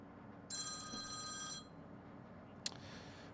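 A single electronic telephone ring on a phone call, about a second long and steady, followed by a brief click as the line connects, quiet with no voices.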